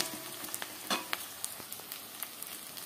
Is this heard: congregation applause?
no